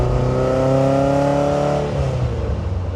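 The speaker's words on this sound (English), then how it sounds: "This is a 1983 Ferrari 308 GTS QV." A 1983 Ferrari 308 GTS QV engine pulls hard under load, a loud close harmonic drone rising steadily in pitch, then dropping abruptly as the revs fall and settle into a lower hum.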